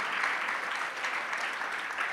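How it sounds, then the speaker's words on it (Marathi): Audience at a spiritual discourse clapping steadily, a continuous soft patter of many hands heard from a distance. "तुम्हाला इथे बसून टाळ्या वाजवणं सोपं आहे बरं का"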